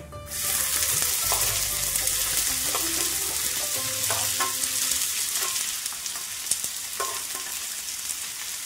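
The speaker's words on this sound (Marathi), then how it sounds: "जिरं छान फुललं की कांदा टाकून घ्यायचा आहे" Cumin seeds and chopped onion fry in hot oil while being stirred, a loud, close sizzle with scraping and clinking of the spoon against the pan, continuous throughout.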